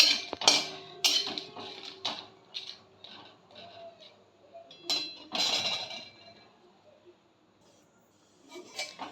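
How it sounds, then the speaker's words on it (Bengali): Dried chillies being dry-roasted and stirred in a pan, heard as sporadic metallic clinks and scrapes of a utensil against the pan with quiet gaps between strokes. "সবার আগে আমি লঙ্কাগুলোকে একটু ড্রাই রোস্ট করে নেব"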